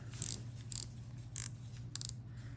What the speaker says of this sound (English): Very audible clicks on the tension knob.